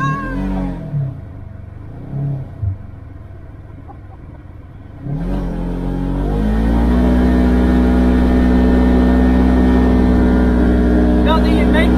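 Dune buggy on paddle tires rolling down a steep sand dune at Winchester Bay, Oregon: a steady, loud engine drone with low rumble that swells and holds, with speech over it.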